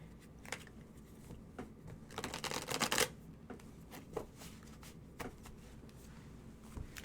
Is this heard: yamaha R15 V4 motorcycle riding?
no